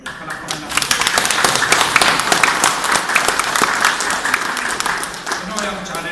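Audience at a best barangay disaster contest applauding, a loud, dense and sustained round of clapping from a large crowd lasting throughout, with a few sharper individual claps standing out.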